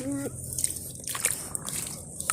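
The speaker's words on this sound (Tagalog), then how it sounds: "Ready na to para buhos sa bahay ng land crab." Wet mud gets poured into land crab burrows outdoors, giving soft sloshing and splashing bursts, with a voice and other talk around it.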